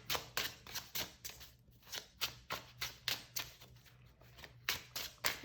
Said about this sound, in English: let's see if I can riffle shuffle on camera